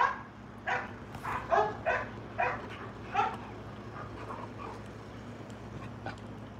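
An American bulldog barks in a burst of about six loud, closely spaced woofs, then lets out a few softer yips and whimpers against a low background hum.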